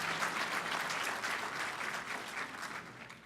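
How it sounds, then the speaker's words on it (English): A crowd at a city's State of the City address breaks into steady applause, dense and even throughout, heard from a moderate distance at low volume. "And yes, it's okay to applaud anytime you want"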